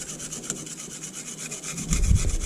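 A distributor rotor from a Ford F350 is cleaned up by filing, with steady, close, rhythmic rasping strokes that get louder near the end.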